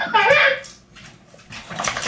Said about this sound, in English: Dog's here.